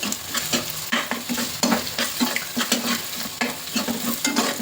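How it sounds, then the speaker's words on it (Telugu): Ginger garlic paste sizzles in a pan while it is stirred during the making of a paneer and egg biryani, with rhythmic scraping strokes over a steady hot crackle, close and loud, with no voices. "వేసి బాగా కలుపుకొని మళ్ళీ ఫ్రై చేసుకోవాలండి"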